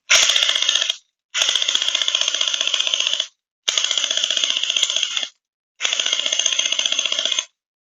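An ANSTOY M4A1 gel blaster with an 11.1 V battery and XFORCE spring upgrade fires in four rapid full-auto bursts, each a fast buzzing rattle of about one to two seconds, separated by short pauses and heard up close.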